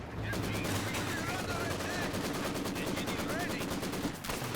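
Machine gun fire from an MG squad in a video game, rapid continuous bursts rattling at steady volume, with faint game chatter mixed in.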